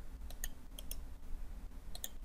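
Mouse clicks during work in Autodesk Inventor assembly software, a few sharp, quiet clicks in pairs spread across the stretch over a low steady background hum, with no talking.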